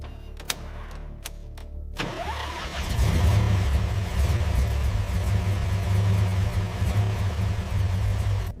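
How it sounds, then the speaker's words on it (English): A car engine cranks and starts after a few clicks, then settles into a loud, steady revving rumble that stays strong to the end, heard close by. "Ignition sequence initiated."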